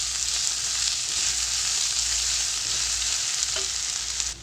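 Chopped onions fry in a pan for Tamil-style sabudana (sago) khichdi, giving a loud, steady, close sizzle that runs unbroken throughout with no talking.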